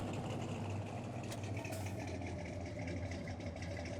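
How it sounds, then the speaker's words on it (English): Truck engine idling steadily in Farming Simulator 19, a continuous low rumble held at an even level throughout with no talk. "Truck's got a good sound pack to it."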